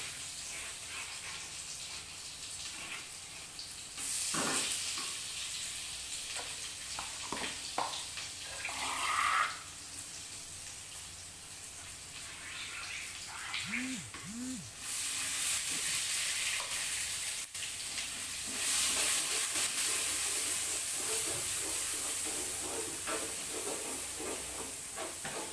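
Ground spice paste frying with softened shallots in a pan for an eggplant vegetable dish, a steady close sizzle and hiss with occasional stirring scrapes and clinks, no talking.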